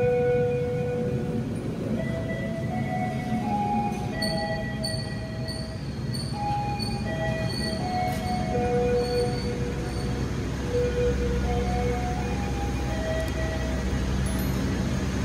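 Argo Wilis Panoramic passenger train running on a mountain railway line in West Java, heard from on board as a continuous low rumble of wheels on rails, with recurring metallic squeals from the wheels on curves throughout.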